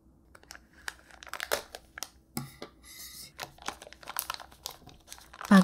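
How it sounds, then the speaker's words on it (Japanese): A plastic package holding slime-type cleaner for keyboards is cut and opened, giving a run of close, quiet crinkles, rustles and snipping sounds in irregular bursts, with a louder crackle at the end. "パッケージを切り開いてスライムを取り出します。"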